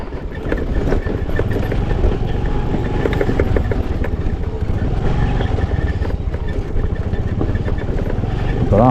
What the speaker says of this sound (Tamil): ஒரு டூ வீலரில் 2 நண்பர்கள் வந்து போகிறாங்க